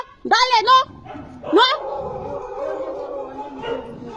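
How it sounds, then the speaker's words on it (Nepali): A dog yelps and whines a few times up close, its high bursts trailing into a drawn-out whimpering howl. "यस्तो कुकुर आउँछ नि"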